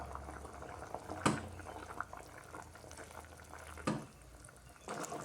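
Egg and vegetable stew bubbles at a boil in a pot, a soft, steady burble of liquid with a few louder splashes and clinks, no voices.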